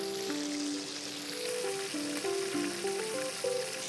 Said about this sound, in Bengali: এটা কি আমরা খুব হাই ফ্লেমে এটাকে ভাজছি, তাই তো?